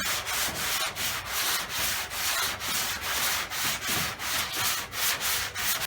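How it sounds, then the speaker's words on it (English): An 80-grit paper on a 2-foot long board sands primer on a car's quarter panel, loud rasping strokes in a steady back-and-forth rhythm, about two per second, close by with no talking. "Now we're going to sand this down with a long 2-foot with 80."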